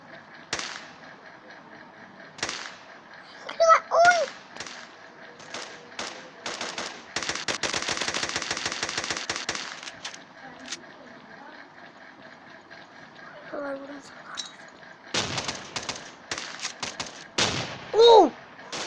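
Gunfire in the blocky shooter game Kuboom crackles in sharp single shots and one long rapid automatic burst, with scattered explosions and pickup chimes, while a player talks excitedly between volleys.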